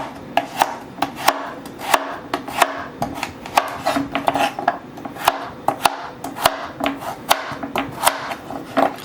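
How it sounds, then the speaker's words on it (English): A knife chops a carrot in half on a cutting board while stir fry chicken is prepared, a loud close series of sharp irregular thuds and scrapes with no talk. "we're just going to split our carrot in half."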